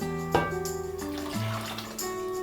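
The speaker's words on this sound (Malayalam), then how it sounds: "ഇതിൽ തന്നെ ഞാൻ കുറച്ച് വെള്ളം ഒഴിച്ച് കൊടുക്കുന്നുണ്ട്" Water is poured into a cooking pot of home-made rasam in a kitchen, a short splashing gush followed by a gentle trickle, close and fairly quiet with a faint tonal hum.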